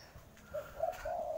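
Doves, including spotted doves and zebra doves, cooing at a bird farm in Mojokerto; a few soft, low repeated coos, fairly close, over faint background noise.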